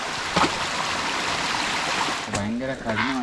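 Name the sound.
mountain stream water flowing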